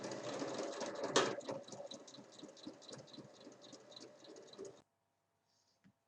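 A sewing machine stitches the seam of a fabric drawstring pouch one centimetre from the edge, its rapid, even needle chatter running close and steady for several seconds before it stops abruptly into silence.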